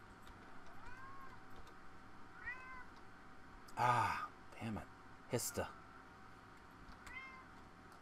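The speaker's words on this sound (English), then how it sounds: "My cat's getting restless." A pet cat meows several times in a room, with faint rising calls spread through a quiet stretch while someone speaks and sighs nearby.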